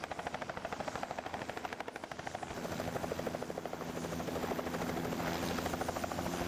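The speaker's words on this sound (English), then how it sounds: "the helicopter returned to the airport." A helicopter returning to an airport, its rotor thumping in a fast, steady chop, loud and close, growing a little fuller as the engine whine rises.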